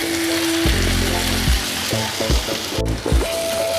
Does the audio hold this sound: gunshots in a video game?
no